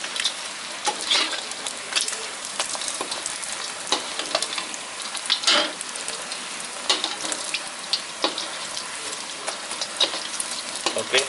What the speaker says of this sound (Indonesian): kita masak telurnya dibolak-balik biar mengembang